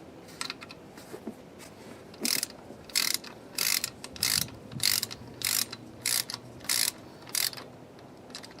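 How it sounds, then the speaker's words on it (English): A hand ratchet clicks in quick repeated bursts while snugging up water pump bolts on a 2015–17 Mustang GT Coyote engine, each burst of close, crisp pawl clicks separated by short pauses. "I'm just going to snug them up first and then we'll torque it"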